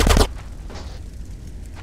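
A short burst of video game gunfire, two or three sharp shots packed into the first quarter second, followed by a fading low rumble.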